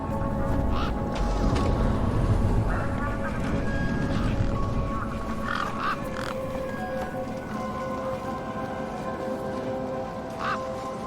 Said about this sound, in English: One particularly large and familiar bird stood out from the rest.